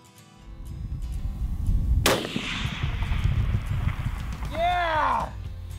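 A long-range rifle shot at a rockchuck: one loud, sharp crack with a ringing tail over steady outdoor wind noise, followed shortly by people talking nearby.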